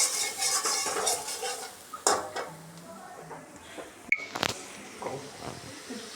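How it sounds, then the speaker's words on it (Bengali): Ground coriander and turmeric stirred and sautéed in a pan, with metal utensil scrapes and clinks at irregular intervals and a faint sizzle underneath, fairly close by. "এখন দিয়ে দেবো ধনে আর হলুদ। ভালো করে আমি মশলাটা কষিয়ে নেব।"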